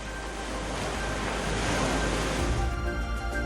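Pounding surf breaking along the Australian coast, a broad steady roar of waves with a wind-swept rush that swells slightly near the end, heard alone without voices.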